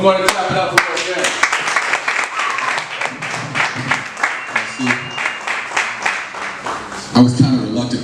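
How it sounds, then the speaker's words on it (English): A comedy show audience claps and applauds, a loud burst of rhythmic clapping that settles into uneven waves, with a voice talking over parts of it and a renewed swell near the end. "Come on and clap it up for her again."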